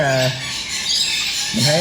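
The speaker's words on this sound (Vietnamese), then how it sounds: "Các bạn nghe thấy tiếng chim tụi nó hót không?" Birds in the trees of a Phu Quoc safari park, squawking and calling over a steady hiss of insects or foliage, with voices talking at the start and end.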